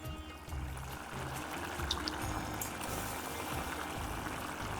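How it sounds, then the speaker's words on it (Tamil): Water wrung by hand from soaked soya chunks while making soya subji, a steady close pouring and trickling that runs through the whole stretch with no talk over it. "இப்படி புழியணும் கையால். இப்படி புழிஞ்சல்னா வருது பாருங்க."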